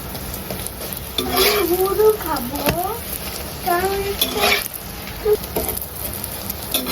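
A paratha fries in oil on a tawa with a lively sizzle and spatula scrapes, while a voice and other chatter break in intermittently over the cooking.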